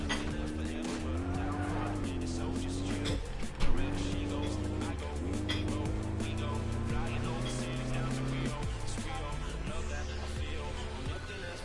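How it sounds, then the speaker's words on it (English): A Porsche engine drones in Need For Speed, a sustained rising and falling whine through several gear shifts and one sharp knock, while a person talks over it throughout. "Ooh, that's a Porsche."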